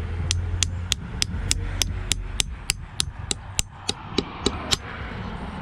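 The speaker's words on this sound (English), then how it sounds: "And we take our hammer." A hammer drives a tap into a maple tree: about sixteen sharp, evenly spaced knocks in quick succession, loud and close against a quiet outdoor background.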